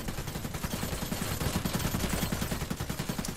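Gunfire from the Iron Harvest strategy game, a rapid, steady stream of shots rattling like machine-gun bursts for several seconds, dense and continuous with no talking.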